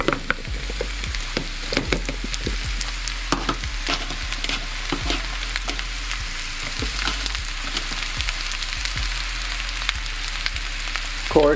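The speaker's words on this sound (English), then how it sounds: "we're gonna saute these baby bella mushrooms, we're gonna saute these pearl onions" Baby bella mushrooms and pearl onions sauté in a pot for beef bourguignon, a steady sizzle broken by frequent clicks and scrapes of stirring, close and even throughout.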